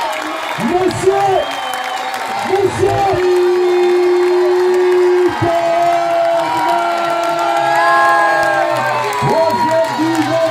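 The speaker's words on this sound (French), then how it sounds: "Et je demande de l'applaudir encore." A crowd at the finish of an ultra-trail race cheers, whoops and applauds loudly and continuously, while an announcer's amplified voice carries over the noise throughout.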